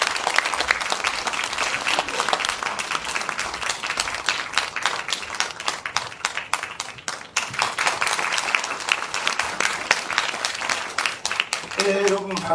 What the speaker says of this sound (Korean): 큰 박수로 청해주시기 바랍니다